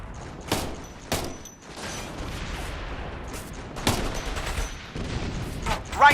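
Scattered bursts of rifle and support-weapon gunfire in the Operation Flashpoint: Red River video game, sharp cracks at irregular intervals over a steady battlefield rumble, with no talking.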